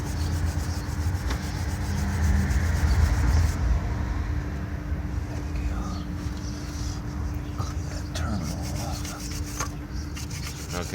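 Steady close scraping and rubbing as corrosion is scrubbed off a battery terminal on a 2005 Honda Civic EX, continuous over a low hum, louder in the first few seconds.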